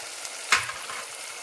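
Potatoes and green peas go into a hot pan for spinach curry, and a brief sharp sizzle flares up, then settles into a soft, quiet frying crackle.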